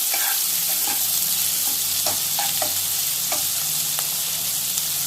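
Chana dal and urad dal fry steadily in hot oil, giving a continuous close sizzle with repeated soft stirring clicks of a spatula throughout and no talking.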